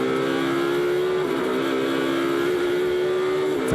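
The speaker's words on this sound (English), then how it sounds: "Fantastic sound from the Ferrari." Ferrari GT race car in a Blancpain Sprint Series race at Algarve, its engine note rising steadily as it accelerates uphill on the track, loud and continuous with a brief dip partway through.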